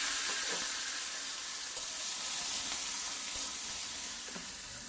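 Lai shak (mustard greens) fries in a pan with a continuous close sizzle, broken by a few soft stirring knocks.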